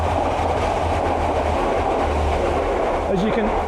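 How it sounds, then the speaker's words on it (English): A train rumbles through a railway station, heard from the station cafe, with a loud, steady low roar and rolling wheel noise, and a brief metallic squeal rises near the end. "as you can hear from that, we're in the railway station cafe, and Eddie's just bought me a cup of coffee,"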